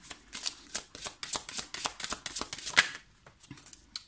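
Tarot cards being shuffled and drawn by hand, a run of quick crisp riffling and sliding bursts close up, tapering off near the end with a last snap.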